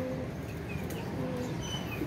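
Pigeons settled at a loft give off faint, low cooing calls over a quiet background.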